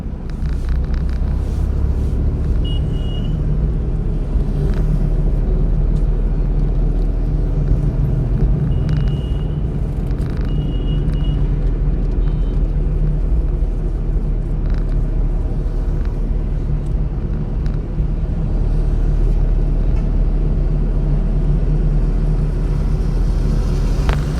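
A car engine hums steadily in third gear while driving above 30, a continuous close rumble with light mechanical rattles and no clear revving surges.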